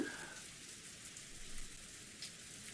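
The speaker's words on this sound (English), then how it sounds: "abandoned ourselves to the sound of the falling rain in the dark night" Steady falling rain in a video game night scene, a dense continuous patter with no voices, even and moderately loud throughout.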